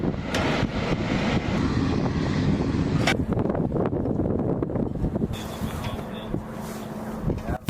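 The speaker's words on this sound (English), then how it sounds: "The B-52 turns onto the runway." A B-52 Stratofortress bomber on the runway gives a deep, rumbling jet-engine roar with wind-like noise that shifts midway into a steadier, thinner whine.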